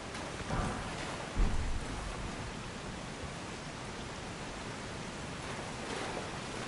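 Steady roaring wash of a waterfall in Elden Ring, a continuous broadband rush like heavy rain that fills the whole clip at an even level, with one brief low thump early on and no voices.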